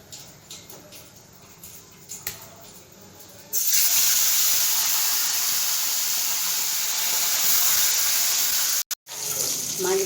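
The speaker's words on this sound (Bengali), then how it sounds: "কড়াই বসিয়ে সর্ষের তেল দিয়েছি। এবার মাছগুলোকে দিয়ে দেব।" Fesha fish hits hot mustard oil in a kadai, setting off a loud, steady broadband sizzle that starts abruptly after a few seconds of quieter kitchen noise and holds with a brief dropout near the end.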